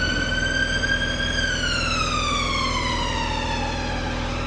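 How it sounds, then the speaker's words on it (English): A siren wails continuously, its pitch sliding slowly downward after a brief steady stretch, loud and unbroken with no talking. "you've got the wailing siren"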